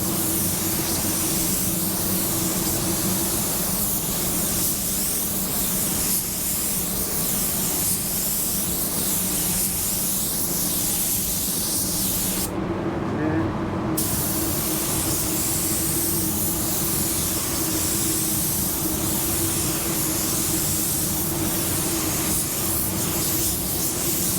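Winter spray painting with an Ultra 9K sprayer produces a loud, constant hissing spray close up that runs for the whole stretch. It cuts briefly around the midpoint before resuming, and there is no talking.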